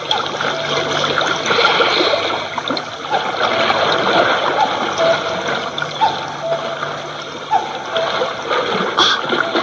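A wide river flowing through dense jungle, made as an audio drama sound effect, rushes steadily with continuous running water and scattered small splashes and gurgles, fairly close and constant.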